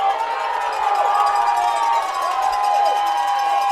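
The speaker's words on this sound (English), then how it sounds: "Generals crowd trying to fire up the defense here on this 3rd and long" A high school football crowd cheers and shouts steadily at a Generals home game on a third-and-long, a dense roar of voices filling the stands throughout.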